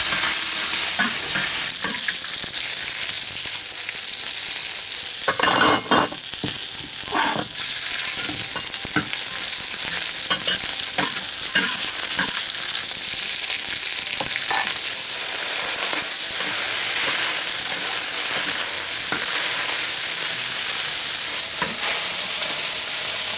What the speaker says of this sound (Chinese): 把肉先倒下去炒一下